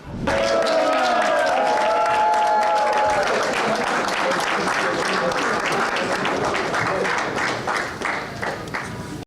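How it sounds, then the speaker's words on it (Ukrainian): Foreign journalists applaud in a press room after a heavyweight boxing title fight, steady close clapping from many hands with a brief hum of voices early on, continuing throughout and easing toward the end. "Усик заходить в прес-рум під оплески закордонних журналістів."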